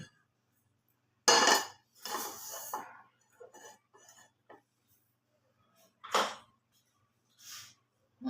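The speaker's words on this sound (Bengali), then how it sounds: "আমি এবার একটা কড়া বসাব" A metal kadai set onto a gas stove in a home kitchen, with a loud close clatter and scrape, then quieter knocks and another sharp clang amid near silence.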